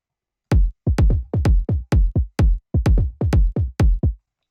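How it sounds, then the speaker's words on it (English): Three electronic bass house kick drums layered and played together, about a dozen punchy, booming hits in a steady syncopated groove with no other sound. "And if I play all three of these kick drums together,"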